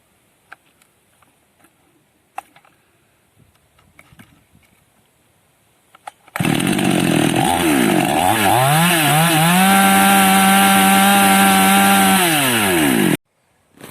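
A Chinese-made chainsaw of the Nac, Krischner or Demon type fires up after some faint handling noises and screams at full throttle for about seven seconds, close and very loud, pitch wavering then holding high before cutting off abruptly.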